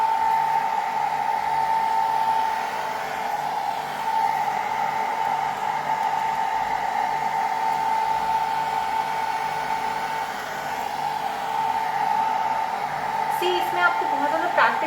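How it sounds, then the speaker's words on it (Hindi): A handheld blow dryer drones steadily for the whole stretch during an at-home blow dry with a roller brush, a loud continuous whooshing hum with a stable tone and slight fluctuations, plus a faint brushy rustle near the end. "एक हाथ से आपका ड्रायर चल रहा है"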